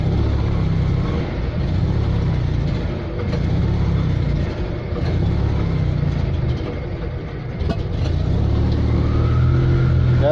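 An Invacar's small engine revs up and holds a steady, loud drone as the car pulls away, running on the accelerator pump alone, with the note rising slightly toward the end.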